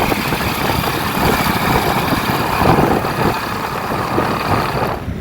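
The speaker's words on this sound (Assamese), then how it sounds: "এতিয়া মই বাইকত উঠি ল'লোঁ, গৈ থাকোঁ ধুনীয়াকৈ" A motorbike riding along a road gives a steady, loud engine drone mixed with rushing wind and road noise, unbroken for the whole stretch.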